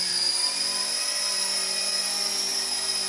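A small toy helicopter's rotor whines in a constant high-pitched buzz with a steady hum underneath, the rear blade making noise, close and unbroken throughout.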